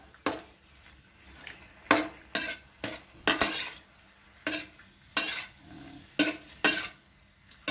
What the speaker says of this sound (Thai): ใช้ไฟที่แรงที่สุดนะครับ มันจะได้สุกเร็วนะครับ แล้วก็ผัดไปเรื่อยๆนะครับ